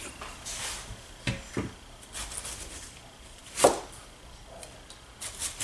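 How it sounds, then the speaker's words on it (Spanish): A whole cauliflower is cut into pieces with a knife for keto cauliflower rice, giving scattered sharp cutting thuds and crunches at an irregular pace, close by and with no talk. "Voy a cortarla en pedazos para que se me haga un poquito más fácil."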